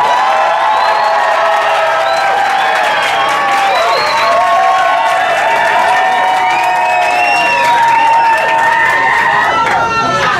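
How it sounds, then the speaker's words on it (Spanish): Loud, sustained crowd noise fills a television talent show studio as the audience claps, cheers and lets out high whoops throughout. "Aplausos para Jesús León."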